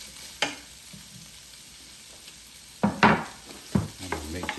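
Spam fried rice is stirred in a Power XL cooker: faint sizzling underneath, punctuated by a handful of loud scraping strokes of a utensil through the rice.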